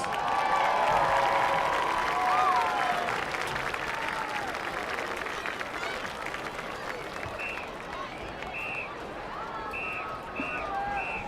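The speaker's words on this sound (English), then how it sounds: "Please give them a big round of applause for the senior parents watching from the sidelines" A stadium crowd claps and cheers for senior parents on the sidelines at a high school football Senior Night against North Allegheny, a loud, sustained roar of applause with scattered whistles and shouts.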